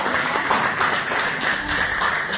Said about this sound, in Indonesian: kita tepuk tangan dulu sekali lagi